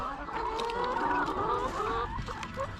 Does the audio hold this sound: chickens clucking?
yes